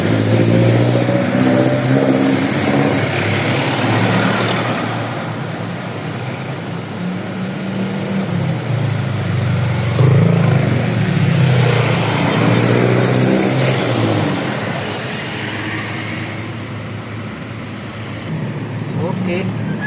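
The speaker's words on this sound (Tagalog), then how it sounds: "Sadyang marami lang ang sasakyan ngayon." Dense road traffic full of cars and motorcycles rumbles continuously nearby, engines droning and swelling as vehicles pass, with a person talking over the steady din.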